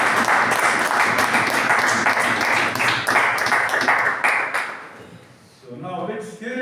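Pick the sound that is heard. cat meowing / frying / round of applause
round of applause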